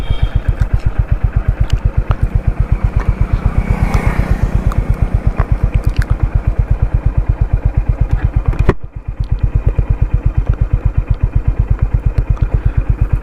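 A Honda CB 350 motorcycle being ridden at night, its engine thumping in a steady, loud, rapid pulse throughout, with a brief dip and rise in the exhaust beat partway through.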